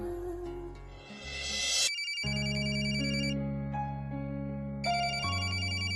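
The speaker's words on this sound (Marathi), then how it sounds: "अरे, ऍडव्होकेट चौधरींचा फोन" A phone ringtone plays as a bright, repeating electronic melody, fairly loud and alone, with sustained tones and a short gap before the tune resumes, with no talk over it.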